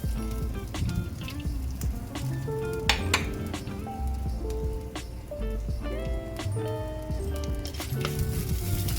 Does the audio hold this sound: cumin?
yes